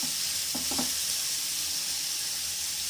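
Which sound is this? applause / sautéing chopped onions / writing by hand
sautéing chopped onions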